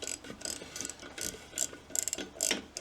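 A small 1/2-inch ratchet with an adapter turns on a wheel rim, giving several short bursts of close, sharp pawl clicking separated by brief pauses.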